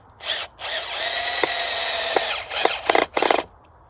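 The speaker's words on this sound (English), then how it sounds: "my drill only had like 1 hour charge" A cordless power drill runs on a charge low battery, driving screws into a wooden post for a pallet raspberry trellis, with a sustained whine interrupted by short bursts and clicks, close and loud.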